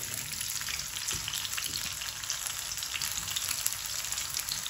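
Potato pieces frying in about a cup of hot oil in a karahi give a dense, continuous close sizzle with fine crackling throughout, steady and loud, with no talking.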